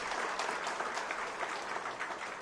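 An audience at a political speech gives a round of strong, steady applause, dense clapping filling the whole stretch without a break.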